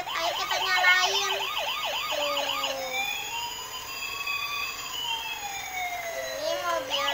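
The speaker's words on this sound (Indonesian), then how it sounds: "ini ada mobil ambulans. Ini mobil rumah sakit. Ayo kita nyalain." A toy ambulance's electronic siren wails close by, first in quick rising-and-falling whoops, then shifting into a slower, long two-tone sweep, thin and tinny over faint room noise.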